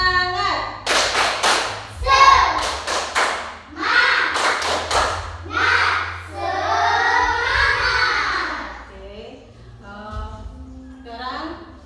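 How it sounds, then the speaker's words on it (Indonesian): Classroom of first-grade children performing a rhythmic spirit clap, with quick bursts of hand clapping mixed with chanting young voices and a teacher's speech, close and lively in a small room. "Tepuk semangat."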